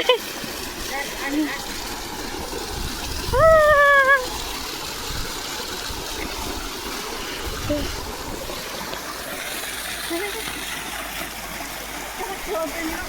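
Continuous splashing, trickling water runs from a pipe in a farm field, with a brief rising whistle-like tone early on and faint voices now and then.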